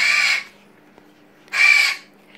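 A pet parrot, a macaw or African grey, lets out two loud, harsh screams about a second and a half apart, each lasting under half a second, with quiet between them.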